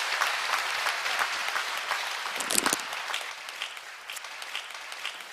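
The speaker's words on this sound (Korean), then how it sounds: "수고해주신 어린이들에게도 박수 부탁드릴게요." Audience at a commemorative concert applauds children who presented flowers and a cake, a continuous wash of clapping from many people, moderate in level and gradually easing.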